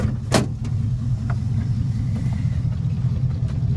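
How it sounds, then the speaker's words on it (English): A 1970 Chevy C10 engine idling, a low, steady rumble close by with a faint click early on, running quietly and evenly throughout. "It's pretty quiet till you rev it up"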